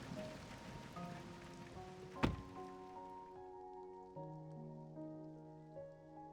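Soft pouring rain in the video game Love and Deepspace, a quiet steady patter under tonal music, with one sharp clack partway through.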